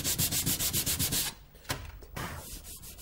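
Hand sanding of wood with sandpaper on a boat-building job: a run of quick, rhythmic rasping strokes up close, then a few slower scrapes between quieter pauses.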